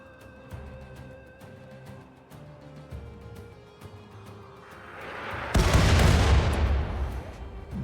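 Mortar fire and explosions in the video game RimWorld: a run of sharp, repeated booms and shots builds into a loud, dense blast that swells and lingers near the end.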